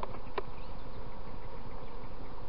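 Honey bees buzz steadily around an opened hive during a spring inspection of frames, brood and honey, a dense, continuous close hum with no talking.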